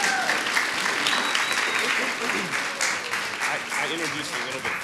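Audience applause at a church gathering, a steady broadband clatter of many hands filling the room throughout, with voices murmuring underneath.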